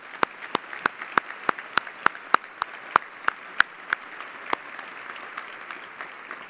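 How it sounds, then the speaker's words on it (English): Sparse, evenly spaced hand claps from a small audience at a political event honoring Bonnie, crisp and fairly close, thinning out and softening toward the end. "How about a round of applause for Bonnie?"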